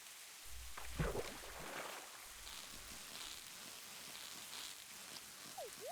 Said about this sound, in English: Even though it's raining and I'm getting soaking wet.